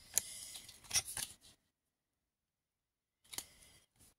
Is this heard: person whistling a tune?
no